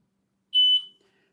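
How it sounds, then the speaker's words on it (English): A single short, high-pitched electronic beep from a laser cutter starting up, clear and close, followed by silence. "You're going to hear a beep."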